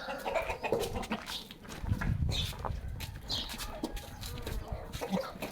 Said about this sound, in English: The chickens are running for the food.